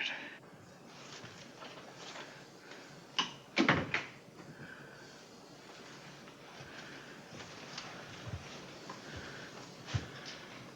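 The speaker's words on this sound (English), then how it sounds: "Close the door, Sigurd." A door being closed in a 1956 Western film: a cluster of sharp wooden knocks and a thud partway through, then a few fainter clicks against a quiet room background.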